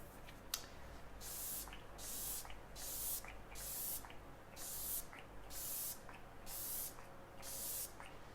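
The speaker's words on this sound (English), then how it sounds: "I like to go ahead and spray my face with setting spray" Pretty Fresh Hyaluronic Acid Setting Spray mists onto a face in a run of about a dozen quick, hissing pumps at an even rhythm, close and soft.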